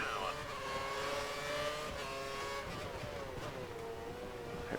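Formula 1 race cars in the F1 2013 video game, with a McLaren closing in on a rival at the Indian circuit, give a continuous high engine whine that shifts pitch as they accelerate, under faint talk.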